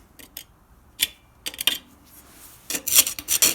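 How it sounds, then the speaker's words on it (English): Metal scraper rasps rust from a Pontiac rear axle hub in short, scratchy strokes, a few isolated scrapes followed by a denser burst of close rubbing near the end. "I also need to scrape around here and clean up this hub"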